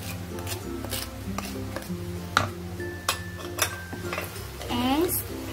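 Spoon scraping and stirring a salted egg cornflakes mixture with chili, curry leaf and sugar in a pan, with repeated close clinks and scrapes and a voice talking over parts of it.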